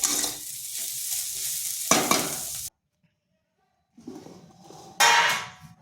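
Dry cauliflower paratha filling is stir-fried in a pan, making loud close scraping and sizzling that breaks into a sudden silence, then resumes with further scrapes and a final strong stir.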